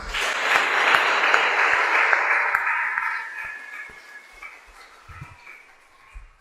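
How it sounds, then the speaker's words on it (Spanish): An audience at a formal book presentation for a supreme court judge breaks into strong, steady applause that swells, then thins out to a few scattered claps over several seconds. "Fuertes palmas."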